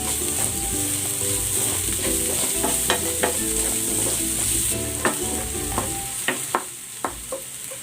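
Onion with ginger frying in a pan for a lemongrass chicken dish, a constant loud sizzle broken by scraping stirs and sharp utensil clinks against the pan, growing more frequent toward the end.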